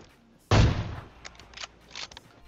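Gunfire in the battle royale game PUBG: one loud, sharp shot with a booming tail, followed by several fainter, more distant shots at irregular intervals.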